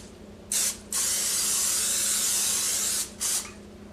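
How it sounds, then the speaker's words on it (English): Olive oil spray hissing onto the bottom of a 13 by 9 by 2 inch baking pan, in three bursts: two short ones around a long steady spray, close and clear with no talk. "Lightly spray the bottom of baking pan with olive oil and set aside."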